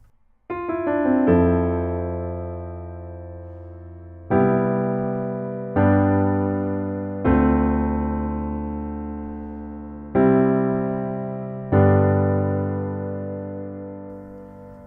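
Solo piano plays the intro of a song, with sustained chords struck at a slow, steady pace, each ringing out and decaying before the next, clear and close with no voices.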